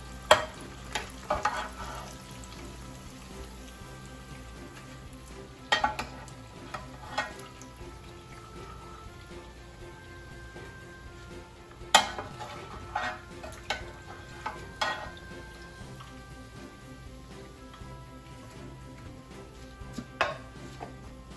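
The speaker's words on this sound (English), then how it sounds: "You see me cleaning it, washing it, frying it." Freshly caught, cleaned fish frying golden brown in a pan on a fishing trip in Florida, a steady soft sizzle with scattered sharp pops and crackles and occasional utensil clinks, no voices.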